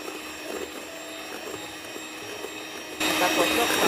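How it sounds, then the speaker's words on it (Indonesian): Milk cake batter beaten with an electric mixer until fully mixed, a steady high whirring drone that grows louder and rougher near the end. "kita kocok sampai komplit"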